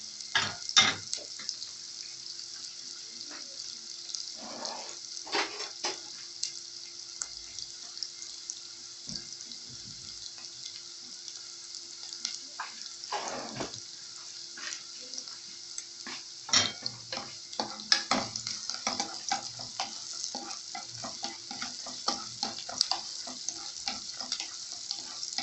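Onion softening gently in a pan, a soft, steady hiss with scattered light crackles and occasional stirring clatter, quiet and close throughout.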